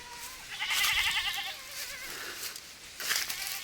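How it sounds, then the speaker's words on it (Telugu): Goats of the Manyam tribal area at Seethampeta bleating close by, several wavering cries overlapping in the first half and another short bleat near the end, heard over outdoor background noise. "మేకలు ఇక్కడ ఉన్నాయి, రోడ్డు ఇది బయటకు వెళ్తున్నాయి."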